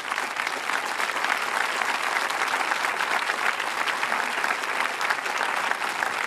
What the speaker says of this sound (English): Give yourselves a quick round of applause.